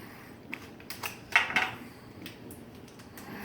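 A metal spatula scrapes and clinks against a pan while lifting out a slab of rich rocky road fudge, a few short scraping taps close by with no talking.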